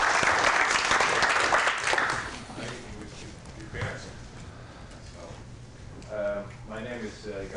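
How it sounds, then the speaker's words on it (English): A short burst of applause from a symposium audience lasting about two seconds, then dying away into room murmur, shuffling and a speaking voice. "You get a big hand of applause"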